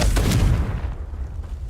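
A Confringo fire-blast spell cast in the video game Hogwarts Legacy goes off as a loud, booming blast that rolls into a low rumbling tail, with no voices over it.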